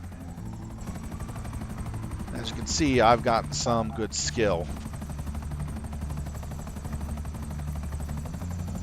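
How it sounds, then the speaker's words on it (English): A low-flying helicopter in GTA 5 gives off a steady rotor drone throughout, while someone talks over the middle stretch. "Now we're going to use the chopper here"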